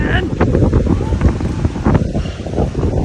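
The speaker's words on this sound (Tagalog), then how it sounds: "ang lakas ng hangin!" Strong wind gusting through a city street, a rough steady roar buffeting the microphone, loud and close, with voices faintly mixed in.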